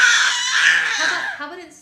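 A baby lets out a loud, high-pitched screech up close, one sustained shrill cry that fades away toward the end.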